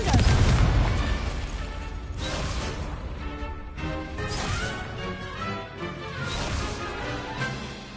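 Repeated booming blasts of the Confringo explosive spell in Hogwarts Legacy, a heavy crash at the start followed by several more rumbling bursts at intervals, loud and close with no talk over them.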